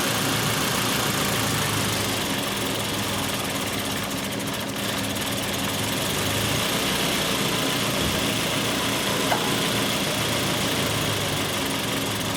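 A car engine idles with a vacuum leak, running loud and close as a steady rough drone that surges slightly in level now and then, with no talking over it.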